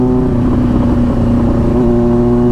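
A motorcycle engine runs steadily and loudly up close, a continuous low drone with a throaty, slightly rising rev toward the end and no voices.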